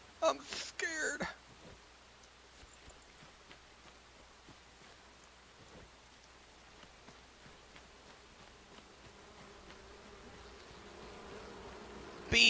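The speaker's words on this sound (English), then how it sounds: "Bees!" Bees in the game Enshrouded keep up a low, steady buzz, framed by short bursts of louder sound at the start and end.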